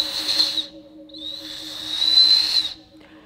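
A handmade clay whistle gives two muffled, breathy high-pitched blasts, a short one followed by a longer one, over a faint low background hum.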